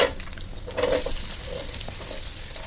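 Fennel, cumin and dried chillies fry in hot oil with a steady close sizzle, a brief louder crackle swelling near one second before settling into continuous spitting hiss.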